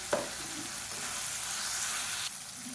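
Onion and tomato sautéing in a pan with salt and turmeric for idli sambar, a continuous close sizzle with a brief stirring clatter near the start, alone without speech.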